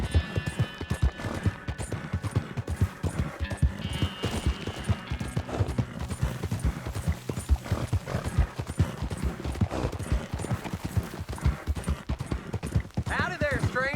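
Horse hooves clip-clop steadily in Red Dead Redemption 2, a dense, continuous rhythm of hoofbeats with occasional whinnies, running under voices talking throughout.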